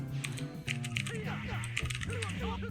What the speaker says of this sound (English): I'm trying to do it with the keyboard is what I'm trying to do here